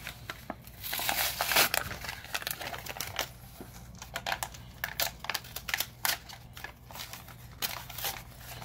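Plastic packaging from a Konami Yu-Gi-Oh! GX card product being opened, with crinkling, tearing and rustling in uneven bursts close to the mic, no talking.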